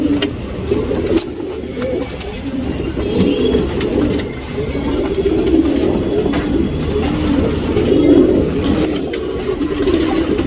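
Pigeons being readied for a racing tournament coo steadily and close by, a continuous low burbling chorus from several birds that runs the whole time, with a faint engine hum underneath.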